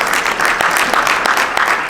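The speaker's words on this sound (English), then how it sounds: "we just give them a round of applause" A crowd at a Muslim Heritage Month food distribution event in Paterson applauds business association leaders, with steady, moderately loud clapping throughout.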